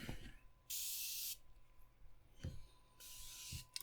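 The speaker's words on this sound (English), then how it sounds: "I need a bit more spray actually to keep me going" Two long, steady bursts of hissing from a spray can in the Crash Team Racing Nitro-Fueled adventure mode, each lasting under a second, separated by quieter game sounds and brief thuds.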